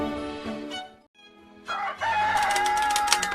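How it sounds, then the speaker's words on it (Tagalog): A rooster crows at a farmhouse at dawn, a strained harmonic call rising after a brief quiet gap and holding loud and close, with other faint tonal sounds before it. "Ne, agtarao kan ti manok."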